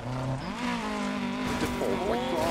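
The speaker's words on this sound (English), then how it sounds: "Grinding on the fences there." Rally car in Dirt Rally 2.0 grinding and scraping along roadside fences at high speed, a continuous loud engine drone with harsh rasping contact noise and shifting whining tones throughout.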